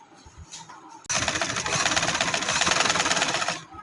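Domestic sewing machine running steadily for about two and a half seconds as it stitches along the edge of a cut neck design on fabric, a loud rapid whirring needle rhythm starting abruptly after a quiet moment and stopping cleanly.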